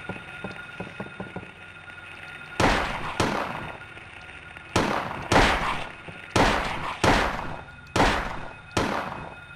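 Gunshots in the horror video game Silent Hill: eight loud, sharp reports in two irregular bursts, each with a short decaying tail, after a stretch of quieter clicking; no talk.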